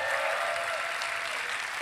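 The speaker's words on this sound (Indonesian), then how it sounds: "Saya minta tepuk tangannya dulu pada malam hari ini." A crowd at a 2024 Indonesian vice-presidential debate applauds steadily at night, dense clapping filling the whole moment without pause.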